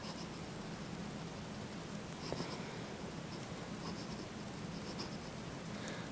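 Manuscript Dodec fountain pen nib writing on paper, a faint, close, continuous scratching with small strokes and taps, under soft background hiss.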